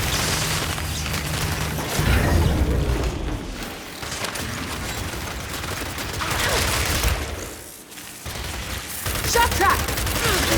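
Frag grenade blast and gunfire in the video game Gears 5, dense rattling bursts of weapon fire with heavy booms at close range, continuous and loud throughout.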